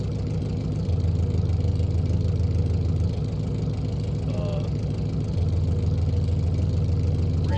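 A car engine in the car-building game Automation, running loudly and steadily at a low, droning pitch, with a brief rise in revs partway through.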